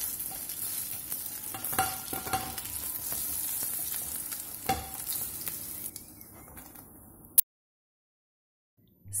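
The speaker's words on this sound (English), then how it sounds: "And they have turned crispy as well. Fry it on both sides." Polish pierogi dumplings fry in hot oil with a steady, dense sizzle and occasional stirring scrapes, running loud for about seven seconds before cutting abruptly to near silence.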